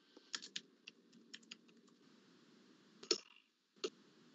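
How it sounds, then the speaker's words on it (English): Keystrokes on a computer keyboard during an online council committee meeting, heard as scattered bursts of quick clicks with short pauses between them, fairly close and quiet, with no one talking. "He's typing."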